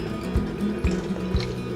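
A little water is poured into curry sauce in a pan for an oil-free vegan bottle gourd, cauliflower and mixed beans curry, giving brief soft liquid fill and drip sounds in close, quiet pulses.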